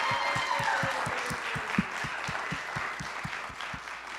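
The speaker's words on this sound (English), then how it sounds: "So definitely a big round of applause for Jason and all that he does for us." Applause at a lecture gathering: soft, moderately distant clapping sits under a regular low thumping pulse, steady throughout with no distinct voices.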